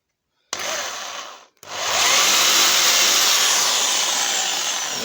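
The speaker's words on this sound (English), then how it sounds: "we drill a little centre hole in the other end of the workpiece" A loud power drill whirs, drilling a small centre hole in the end of a workpiece, stops briefly after a second, then starts again and runs steadily, close by.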